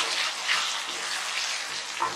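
Sambal frying in a pan with sugar, salt and mushroom stock as it is stirred, a steady broadband sizzle with soft scraping, continuous and fairly close throughout.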